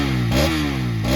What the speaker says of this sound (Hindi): और इसके एग्जॉस्ट नोट को सुनते हैं